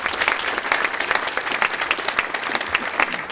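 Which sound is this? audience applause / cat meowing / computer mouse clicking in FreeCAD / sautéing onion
audience applause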